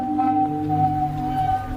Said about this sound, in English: Zadar has a strange thing called a sea organ that looks and sounds like this.